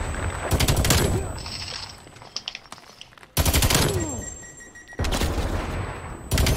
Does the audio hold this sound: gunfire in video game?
yes